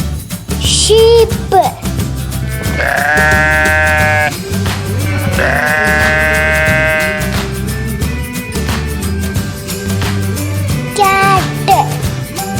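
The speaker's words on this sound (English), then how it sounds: "sheep," Sheep bleat repeatedly in drawn, quavering calls, some overlapping, heard fairly close above a continuous soft musical background.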